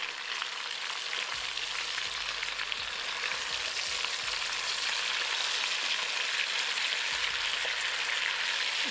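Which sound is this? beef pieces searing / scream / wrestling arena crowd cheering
beef pieces searing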